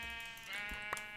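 A single sheep bleats in the Minecraft video game, a quiet, wavering cry lasting about a second and heard alone.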